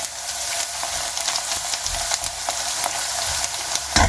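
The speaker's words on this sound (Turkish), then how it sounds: "Soğanlarımızı biraz pembeleşinceye kadar soteleyelim." Chopped onions sautéing in oil in a pan, a close continuous crackling sizzle with scattered sharper pops and a stir near the end, no talking.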